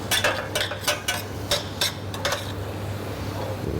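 Spinach being stirred in a pan with a utensil for poached haddock florentine, giving a run of close scraping, clinking strokes that fade into a steady low hum with no talking.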